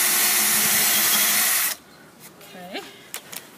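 A power drill whirs steadily for under two seconds while drilling into wood and stops, followed by a few light clicks and a brief voice.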